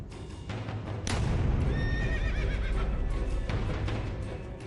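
A horse whinnies loudly and gallops with steady clip-clop hoofbeats over a dense, busy background, the neigh rising sharply midway and hooves continuing throughout.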